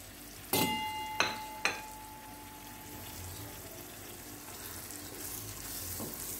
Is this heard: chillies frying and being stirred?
yes